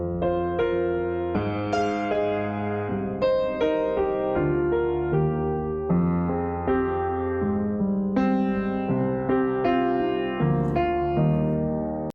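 A solo melody from a song played on a sustained keyboard or synth tone, with many short notes in a lively rhythm over a steady held low harmony, close and clear with no talking.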